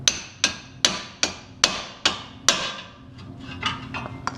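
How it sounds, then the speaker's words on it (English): A hammer strikes a pickle fork wedged into a Volkswagen MK5 ball joint during a control arm install. About nine sharp metallic whacks land at a steady pace, close and loud, followed by a few lighter taps. "wedge your pickle fork in, and give a few whacks"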